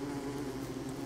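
A continuous drone of buzzing bees in a bee biome in Don't Starve: Reign of Giants, short and steady at moderate level with no talk over it.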